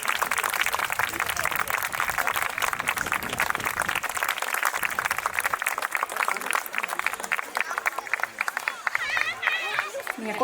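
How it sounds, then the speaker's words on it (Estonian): An audience applauds at a children's dance and music concert, producing dense continuous clapping throughout, close and loud, with crowd murmur and voices mixed in. "teeme aplausi."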